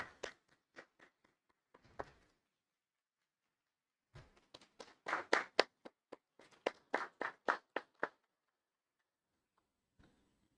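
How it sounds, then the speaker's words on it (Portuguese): A small group in a council chamber claps after a motion is approved. The scattered, sparse handclaps come in two short bursts separated by a pause, with no talk. "Uma salva de palmas"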